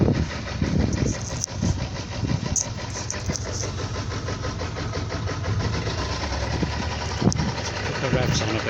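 A boat's engine on the River Douro holds a steady, loud low rumble that builds slightly as it is revved, with people talking over it throughout.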